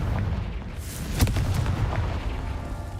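The Bombarda and Confringo explosion spells from the video game Hogwarts Legacy go off as a heavy, rumbling blast that booms once under a constant low roar.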